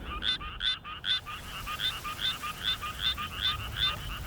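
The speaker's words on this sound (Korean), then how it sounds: "이와 더불어 이 수원 청개구리의 노래도 반드시 기억해야 될 소리인데요" Suwon treefrog calling in a steady series of about a dozen bright, pulsed croaks repeating roughly every half second, clear and close with no voices.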